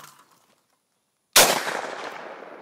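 A single loud shotgun blast fired at a clay target outdoors, a sharp crack after a brief near-silent pause, followed by a long rolling echo that slowly fades.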